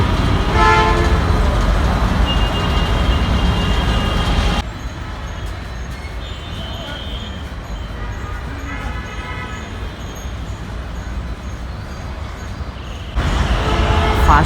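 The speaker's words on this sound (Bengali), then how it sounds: "পাশেই হচ্ছে মেন রাস্তা এ কারণে অনেক হর্ন শোনা যাতেছে" Horns sound repeatedly from a busy main road near the Jatrabari roundabout and overpass, set against heavy, constant traffic rumble; the din drops to a steadier, quieter hum midway before surging again.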